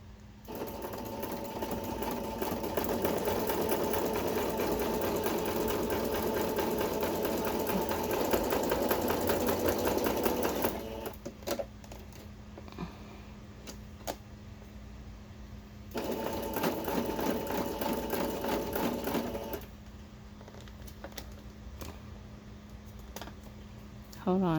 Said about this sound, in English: It's going to be loud for a few minutes,